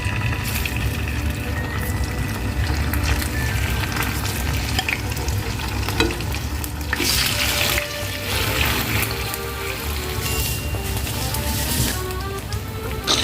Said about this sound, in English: Fry marinated fish.